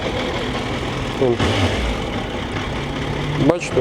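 A Suzuki Bandit 1250FA motorcycle with 15,000 km on it idles around 1000-1100 rpm, a soft, low, steady engine hum heard close by while someone talks over it.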